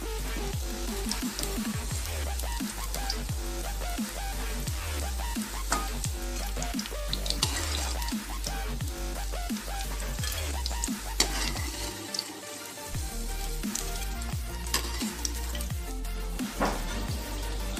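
Cauliflower tikka fries in a wok, a dense ongoing sizzle of hot oil with frequent clinks and scrapes of a utensil against the metal, steady and close with no one speaking.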